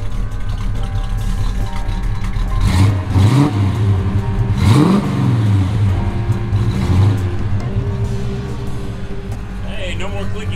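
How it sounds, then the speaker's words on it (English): A patina classic truck with an overdrive conversion and new wheels and tires revs its engine in several swelling bursts that rise and fall, loud and close, idling between them. "Give me a little rev."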